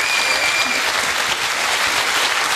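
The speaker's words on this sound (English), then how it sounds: "Give her a nice round of applause." A TV game show studio audience breaks into loud, dense applause, many hands clapping at once in a sustained roar that holds steady for the whole stretch with no speech.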